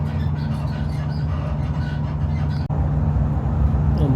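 Steady, loud rumble of a Koleje Śląskie regional train running between Katowice Airport and Gliwice, heard from inside the carriage, with continuous wheel and motor noise throughout and a brief dip partway through.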